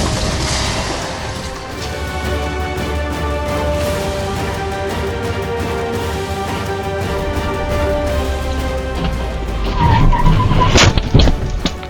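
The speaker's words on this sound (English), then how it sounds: "the car lost control and flipped, heading into oncoming traffic" A car losing control on a highway, with a steady engine roar and long tire squeal that build into a loud scraping, crashing burst near the end as it flips.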